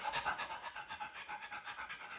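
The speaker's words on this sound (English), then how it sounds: "Panting like crazy, then she stops for maybe a minute" A pregnant dog near giving birth pants rapidly and steadily, quick rhythmic breaths close by with no other sounds.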